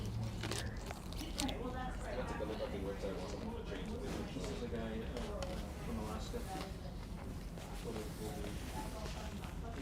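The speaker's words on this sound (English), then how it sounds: "And you're doing the ASMR crunch sounds." A sourdough bread sandwich is bitten and chewed again and again with crisp crunches close to the mic, all under the steady hum of a busy New York City street and voices talking nearby.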